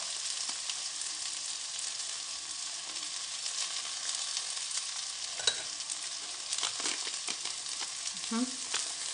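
Potato starch being stirred into a cup of cold water with a spoon, a steady swishing under a loud, continuous background sizzle of food frying nearby; no talking.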